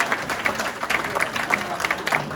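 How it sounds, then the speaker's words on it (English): An audience at a corporate comedy magic show applauds a volunteer, a short round of steady clapping with scattered louder claps. "Give Keith a round of applause."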